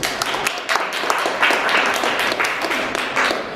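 Audience clapping hands at a live stage hypnosis show, a steady dense patter of many hands applauding together throughout, moderately loud and fairly close, with no speech over it.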